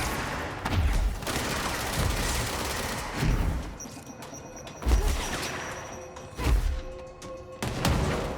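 SMG gunfire in the video game Control, loud close bursts of rapid automatic shots coming in repeated clusters with brief pauses between them, no voices.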